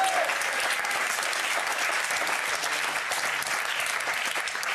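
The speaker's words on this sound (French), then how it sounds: "je voudrais qu'on applaudisse Laurence qui vient très souvent nous voir dans le public" A French television studio audience breaks into steady, sustained applause. Many hands clap at once in a dense, even roar that lasts throughout without a break.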